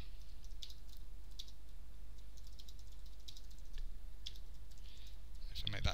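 Soft, irregular clicks from an iPhone's on-screen keyboard tap out text one key at a time, faint and close over a low steady hum, with a louder clatter at the very end.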